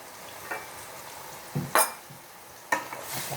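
Squid and spring onions stir-fried in a hot pan: a low sizzle with a few sharp spatula scrapes and clanks across a few seconds, no voices.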